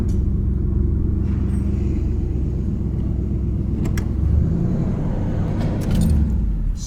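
A grandmother's old G-body car, revived after sitting for 22 years, idles roughly with a steady low rumble throughout, close by, with a few faint clicks and rattles on top and no talk.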